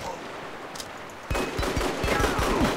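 Dense video game gunfire from Bleedout erupts after a quieter stretch, a rapid fusillade of overlapping shots with booming low thuds, loud and sustained to the end.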